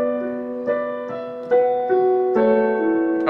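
Piano slowly playing the chords of a song, a few sustained chords struck one after another with ringing decay, clear and alone without any talking.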